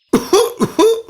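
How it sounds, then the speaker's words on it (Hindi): A burst of several coughs in quick succession, close and loud, with short gaps between the harsh barks. "क्या खांसी आ रही है?"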